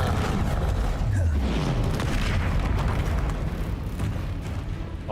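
A fiery Incendio spell blast in the video game Hogwarts Legacy booms loudly with a continuous roaring, rumbling burst that fills the whole stretch.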